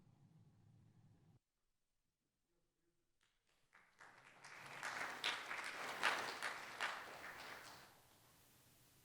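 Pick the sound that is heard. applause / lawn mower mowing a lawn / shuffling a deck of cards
applause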